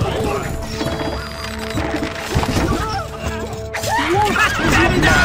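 Battle effects from the Stronghold Crusader strategy game: horse hooves clatter and horses whinny amid crashing combat sounds, with soldiers' voiced unit lines mixed throughout.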